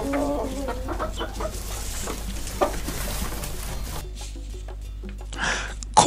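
A chicken clucks in short, irregular bursts against a steady background hum, with a louder squawk near the end.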